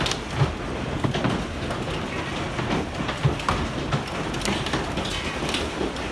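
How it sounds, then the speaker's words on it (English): Large hailstones pelting down outside, a dense, steady clatter of scattered hard impacts that fills the whole stretch with no voices. "It's raining of big ice again, look."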